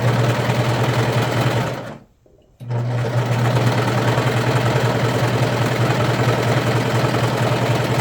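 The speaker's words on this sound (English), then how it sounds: "I'm gonna go back over to my serger or overlocker, whatever you call it, and we're gonna go ahead and sew on the sleeves" A serger overlocker runs steadily as it sews sleeves onto a sweater, a loud continuous mechanical whir with a steady low hum that stops briefly for about half a second and then resumes.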